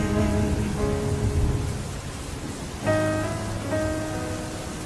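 Steady rain hisses with low rumbles of thunder underneath, while sustained musical tones play over it throughout.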